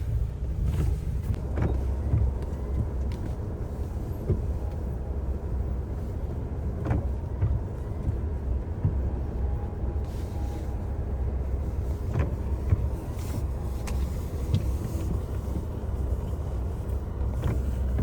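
A car creeps slowly down a steep snowy, icy slope on the road from Manali to Solang during heavy snowfall, with a steady low engine and road rumble and wind buffeting the microphone throughout.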